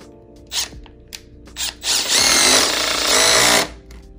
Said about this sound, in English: let's use our pocket holes and drill a hole through here